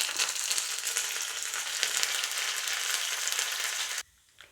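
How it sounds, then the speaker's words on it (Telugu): Cumin and crushed garlic fry in oil, giving a loud, bright, continuous sizzle close up that cuts off abruptly near the end, leaving near quiet. "ఇవి కాస్త ఫ్రై అయిన తర్వాత 7-8 ఎల్లుల్లి రేఖలను దంచి వేసుకోవాలి."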